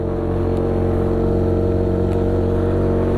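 Vehicle engine pulling hard in second gear up the Halsema Highway, a steep mountain road in Atok, Benguet, with a steady loud drone and low rumble running unbroken throughout.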